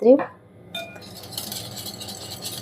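A whisk clinks and scrapes against a bowl while mixing apple fritter batter of egg, sugar and milk. A sharp metallic clink is followed by softer, steady stirring close by.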